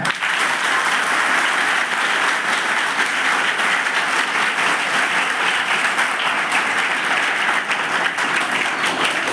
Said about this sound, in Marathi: तालियां ऐसे बजाओ कि हम सबको जोश आ जाए